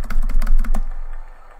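Rapid computer keyboard keystrokes, including space bar presses, during a casual two-player game, a quick burst of close clicks over the first 0.8 seconds that then fades into quiet room noise.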